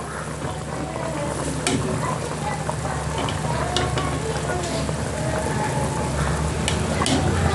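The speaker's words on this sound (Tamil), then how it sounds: "சிக்கனை மட்டும் நாங்கள் வேறு எடுத்துக்கொள்வோம் இதை நாங்கள் பொறிச்செடுக்கணும்" Chicken pieces deep-frying in hot oil in a pan for Arabian chicken majboos, a steady dense sizzle and crackle running throughout with occasional sharper pops, close and fairly loud.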